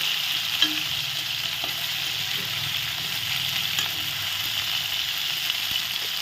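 Large boal fish heads fry in a pan, producing a steady, loud sizzle with occasional soft knocks and scrapes as the pieces are flipped, with no talk over it.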